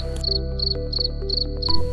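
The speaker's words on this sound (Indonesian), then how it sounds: "ditemani angin sepoi-sepoi dan suara jangkrik" Crickets chirp in short regular pulses, loud and close, over a low steady hum.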